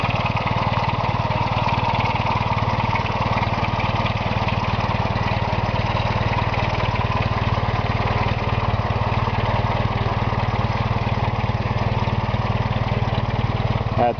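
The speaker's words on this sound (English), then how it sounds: "Motor sounds good." The engine of a 1947 Empire Model 90 tractor runs steadily, a constant rough low rumble with a busy mechanical clatter, loud and close, with no change in pace.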